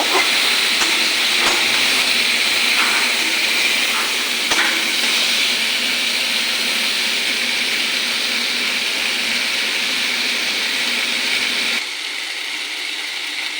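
Lona lotí (colocasia stolons) fry in a pan with a loud, steady sizzling hiss and a few faint clicks, growing slightly quieter near the end.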